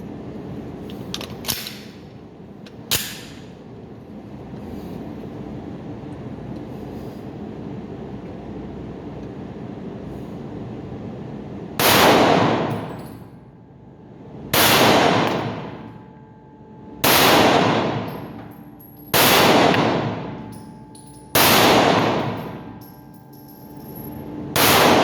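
Five loud gunshots from a Canik Mete pistol fired at steel targets, evenly spaced about two and a half seconds apart with a ringing decay after each, following a stretch of quiet handling noise.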